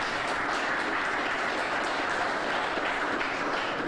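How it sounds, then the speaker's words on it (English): Audience applause at a public health gathering honoring a doctor, a dense, steady wash of many hands clapping at fairly close range, continuous and even throughout with no voices. "Let's give her another round of applause as well"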